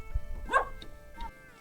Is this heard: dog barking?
yes